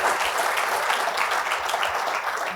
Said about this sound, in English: we're going to have to do a round of applause for 52 years yesterday